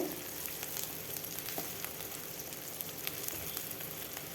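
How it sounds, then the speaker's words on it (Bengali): Onions fry in a pan for a pomfret fish dish with mustard and poppy seed, giving a faint, even sizzle with scattered small crackles and light stirring sounds throughout. "পেঁয়াজের কালারটা যখন চেঞ্জ হয়ে আসবে, দেখুন এইভাবে ভাজতে ভাজতে একদম লাল লাল কালার চলে আসবে।"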